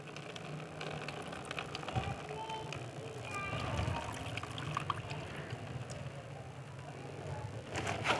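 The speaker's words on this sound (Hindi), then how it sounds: "पानी से अच्छी तरह वाश कर रहे हैं ताकि नमक के तेज़ाब का असर ख़त्म हो जाए" Water rinses laptop battery scrap after a hydrochloric acid soak, producing a continuous splashing, gushing wash that stays fairly loud and steady throughout with scattered clinks.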